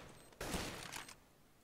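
A gunshot burst from a competitive first-person shooter match in a Razer Arena playoff, a single sharp blast with a short rattling tail lasting under a second, fairly loud, with no talk.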